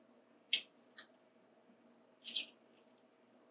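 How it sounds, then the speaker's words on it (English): Gelatin sheets squeezed to press out excess water, a few brief wet squishes spaced apart in a quiet room, close and fairly soft. "Squeeze out the excess water."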